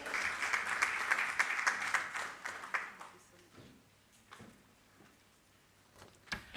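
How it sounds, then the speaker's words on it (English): Audience at a parliamentary capacity-building event on economic and financial governance applauding a speaker, loud clapping for about three seconds that fades to scattered claps and room noise. "A round of applause for her, please."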